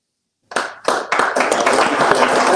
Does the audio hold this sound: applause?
yes